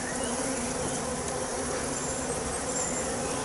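Honey bees crawl over a comb frame lifted from a hive during an inspection, making a dense, continuous close-up buzz that holds steady throughout and stands alone without talk.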